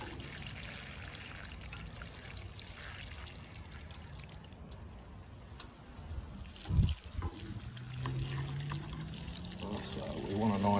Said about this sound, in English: So we want a nice soaking water that's going to go all the way through.